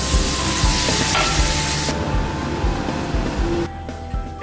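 Koi fish sizzles and fries in a pan with a paste of ground cumin, ginger, turmeric, salt and sugar, a dense steady hiss that starts loud and close, then eases down partway through.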